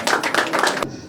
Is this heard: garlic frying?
no